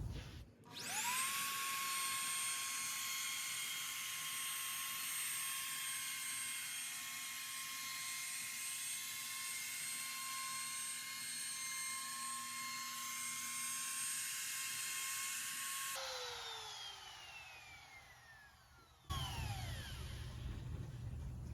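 A router bit cuts along the edge of a wooden balance board on a workbench, giving a loud, steady high-pitched whine that holds for about fifteen seconds, then winds down before the motor starts again.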